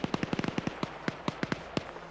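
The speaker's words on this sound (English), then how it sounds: "A lot of gunfire going out," Rapid gunfire in a squad-based shooter video game: about fifteen sharp, cracking shots in quick, uneven bursts, moderately loud, with a faint background hum between them.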